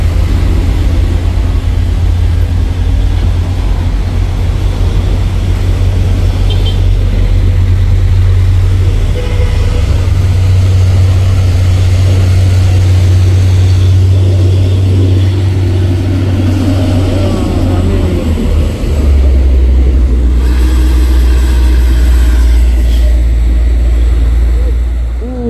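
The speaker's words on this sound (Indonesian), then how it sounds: "Langsung kena salib si trailer sama truk tangki" A loaded Hino tanker truck and a trailer truck labor along a road while overtaking, with a heavy diesel engine droning loud and steady, the pitch shifting partway through, and someone talking over it.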